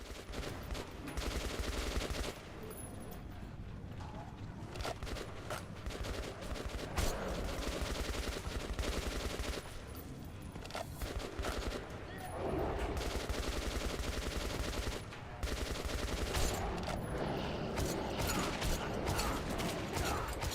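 Rapid video-game gunfire crackles in dense bursts over a busy mechanical background, running almost continuously with brief dips in between.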